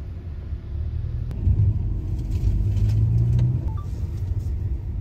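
A car drives past on a road near a vineyard in Nashik, its engine rumble swelling to a peak midway and then fading, steady and moderately loud without speech.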